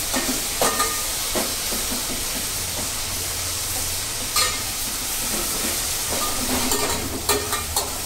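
Ginger, garlic and chili paste sizzles and hisses steadily in a hot pan while cooking a stingray dish, with a few sharper stirring scrapes and spits rising above the frying noise.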